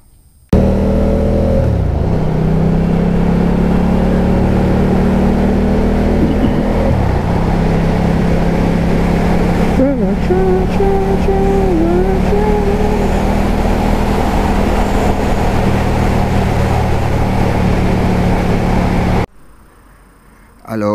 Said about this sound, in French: que dire de ce bicylindre, ce moteur de 1262 cm3 qui développe pas moins de 159 chevaux à 9500 tours